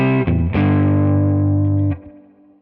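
Electric guitar chord played through the preamp section of a Tone King preamp pedal into a Quad Cortex impulse response, ringing loud and sustained with a slight re-strike, then cut off and fading briefly.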